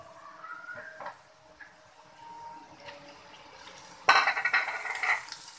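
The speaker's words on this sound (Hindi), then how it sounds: "हमने हाफ केजी इसके अंदर बीफ ऐड कर दिया है।" Half a kilogram of beef dropped into a karahi of frying onions, a sudden loud sizzle and hiss breaking over quieter clinks of a pan, then crackling on steadily.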